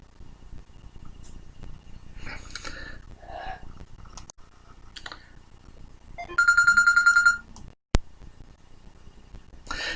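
A telephone rings with a loud, buzzing electronic ring burst lasting about a second, followed by a sharp click, amid softer clicks and rustling in a quiet room.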